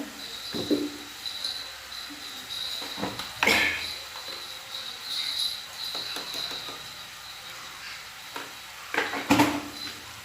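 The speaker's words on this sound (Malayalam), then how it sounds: "നന്നായിട്ടൊന്ന് ഇതിലേക്ക് ഇളക്കി ചേർത്ത് കൊടുക്കാം" Egg fry being stirred in a pan, a spatula scraping and clinking in short irregular bursts over a soft background sizzle, close by with no talking.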